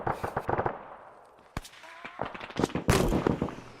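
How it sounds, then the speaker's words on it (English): Heavy machine gun fire in the military shooter game Arma 3, heard as bursts of rapid, sharp shots, some close and loud, others more distant, spread across the clip with brief quieter gaps. "Hear a heavy machine gun."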